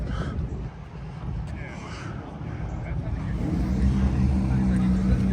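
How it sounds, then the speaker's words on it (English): A GT3 RS sports car engine starts and builds into a deep, steady rumble that grows louder over the last couple of seconds, heard among traffic and background voices. "Oh, this guy's got a GT3 RS starting it up."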